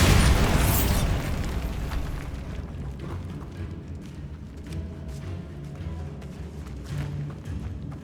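A Bombarda spell explosion in the video game Hogwarts Legacy, opening with a loud close boom that rolls off into a low rumble with scattered debris crackles.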